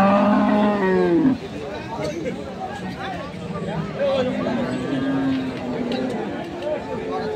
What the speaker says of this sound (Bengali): ওই পাশে আমরা একটা জার্সি গরু দেখছি।